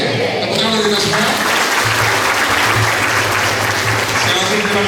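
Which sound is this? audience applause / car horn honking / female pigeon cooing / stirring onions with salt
audience applause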